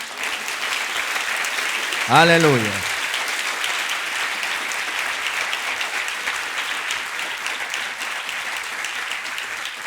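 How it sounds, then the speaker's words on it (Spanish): Congregation applause fills a church service, a steady dense wash of clapping throughout, with a voice briefly calling out near the start over it. "Le damos un aplauso al Señor."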